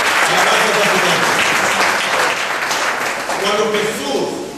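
A church congregation claps steadily and loudly throughout, a dense wash of applause with voices mixed in under it.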